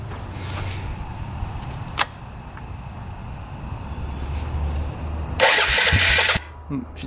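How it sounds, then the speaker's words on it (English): A battered, cheap 4x4 ATV is started up close: a brief crank catches into an idle, then a louder burst of revving follows before the engine drops back down, with people talking over it. "Let's see what happens when we fire it up."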